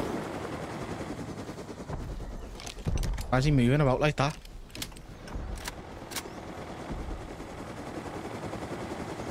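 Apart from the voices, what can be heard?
minigun fire in a video game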